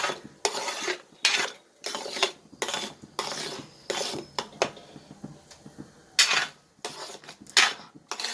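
Repeated scraping strokes of a spoon stirring thick jackfruit jam in a pan, in a steady rhythm of bursts with short pauses between them.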